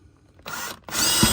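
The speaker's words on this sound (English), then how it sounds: "Drill your hole, and once that's done, I'll go ahead and drill a larger hole" A power drill bores a hole for a canard mounting bolt in the front bumper of a Subaru WRX STI VA, with two short, close whirring bursts and a brief gap between them.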